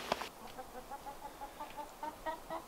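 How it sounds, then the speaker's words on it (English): Chickens clucking in short repeated calls at a moderate distance, with an occasional louder squawk near the start. "Why are the chickens so noisy?"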